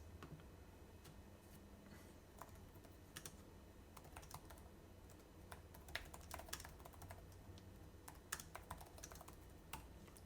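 Someone types in WordPad on a Microsoft Surface Go keyboard, producing soft, fast, irregular key clicks with occasional louder taps. The typing is faint and close, with no talk.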